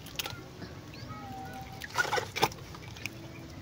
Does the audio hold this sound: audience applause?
no